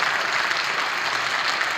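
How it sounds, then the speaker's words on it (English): Audience applause for dancers at a family program, a brief, dense wash of steady clapping from a crowd, fairly loud and continuous with no speech over it. "another round of applause"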